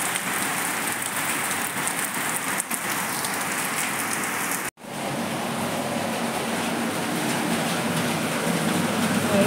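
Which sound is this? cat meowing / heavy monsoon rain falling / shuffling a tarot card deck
heavy monsoon rain falling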